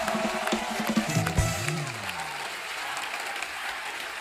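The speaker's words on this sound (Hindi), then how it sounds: "आप सबकी जोरदार तालियों के बीच please welcome the very handsome very talented mister Ranbir Kapoor" A studio audience on a comedy talk show applauds as guests arrive, clapping and cheering at moderate level while music-like tones swell underneath, with a brief louder burst early on.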